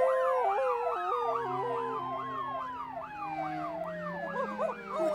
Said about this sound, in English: I can't hear anything when my siren's blaring.